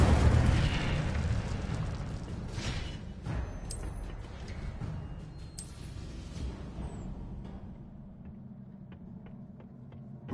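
A fire spell cast in the Hogwarts Legacy video game: a loud, broad whooshing burst with crackling flare-ups that slowly fades over several seconds, ending in a quiet tail with a sharp click at the very end.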